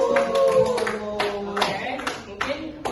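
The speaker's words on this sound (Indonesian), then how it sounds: "tepuk tangan untuk teman kalian" Scattered hand claps ring out in a classroom as students applaud classmates after a presentation, a short burst of uneven clapping that thins out over a few seconds.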